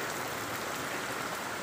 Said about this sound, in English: When it rains here, it really rains